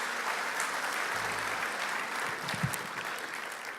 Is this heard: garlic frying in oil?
no